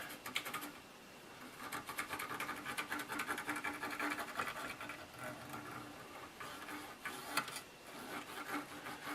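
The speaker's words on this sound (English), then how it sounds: "And then I'm just washing the contacts real quick." Rubbing alcohol scrubbed across the contacts of an NES 72-pin cartridge connector, a close, steady rasping friction with rhythmic strokes running almost continuously, no talking.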